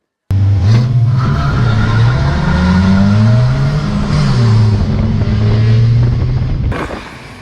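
Stock cars on an oval race track roar close and loud, engines rising and falling in pitch as they accelerate and lift through corners, with tyre noise underneath before the sound fades out at the end.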